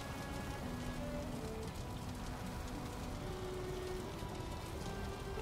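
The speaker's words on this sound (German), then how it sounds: "Das regnet jetzt die ganze Zeit." Steady rain in the survival game Valheim, falling on the plains in a constant even hiss of drops with no break, moderately loud and with no voices over it.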